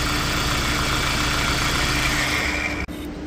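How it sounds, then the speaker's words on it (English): A 2 litre diesel car engine idles steadily after being jump started, a loud close rumble with an even knocking pulse that briefly dips near the end. "So yeah, like I say, a nice 2 litre diesel engine."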